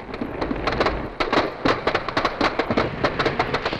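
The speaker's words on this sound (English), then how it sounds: "A finale without fireworks, of course, would be as flat as beer without froth." Dense, rapid crackling bursts and pops from a festival fireworks finale in London, a 30-minute display by a prize-winning Spanish fireworks company, heard loud and continuous with overlapping blasts.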